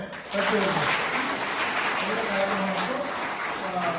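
Loud, steady applause fills a Karnataka gathering honoring women-led development achievers, the dense clapping running throughout alongside a raised voice.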